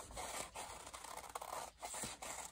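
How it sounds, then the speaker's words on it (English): Crisp, scratchy snipping and rubbing as big scissors cut through paper. The cuts come in short, uneven bursts, close by with no talking. "I'm gonna cut out this oval with my big scissors."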